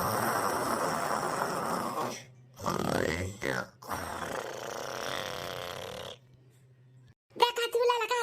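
A person snoring while asleep, heard as a few loud, rough, rasping bursts separated by short pauses, with a brief, sharper noise near the end.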